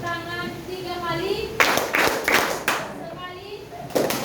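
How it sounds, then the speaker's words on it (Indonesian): A group of young pupils claps their hands in sharp bursts during a Simon Says–style classroom game led by a teacher, the claps loud and close, mixed with children's voices and a teacher speaking. "Bos berkata, tepuk tangan 3 kali."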